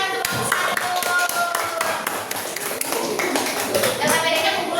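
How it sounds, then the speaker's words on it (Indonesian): Third-grade schoolchildren in an Indonesian classroom clap for a group of classmates, an uneven patter of small hands close by, with children's voices chattering over it throughout. "kasih tepuk tangan untuk kelompok"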